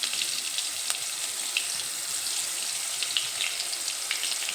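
Chopped onion fries in a pan for an egg and potato curry, a continuous hiss of sizzling oil dotted with sharp crackles and pops, close and steady, with no voices.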